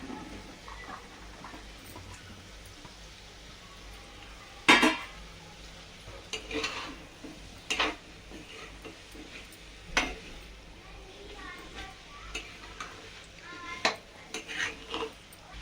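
Peas and carrots tossed into a pan and stirred, with a steady soft sizzle under scattered close clinks and scrapes of a utensil against the pan.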